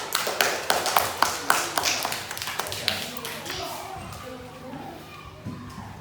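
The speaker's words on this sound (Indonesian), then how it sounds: "Beri tepuk tangan untuk kelompok ikan bandeng" Children in a classroom clap in a quick, evenly spaced rhythm for about three seconds. The claps then thin out into scattered taps, with children's voices murmuring underneath.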